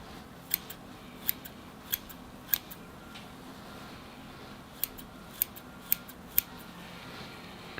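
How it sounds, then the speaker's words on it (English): Crisp curved-scissor snips pruning a bonsai cut one after another at an irregular pace, about a dozen sharp clicks over a quiet background hum. "So I've got my curved scissors."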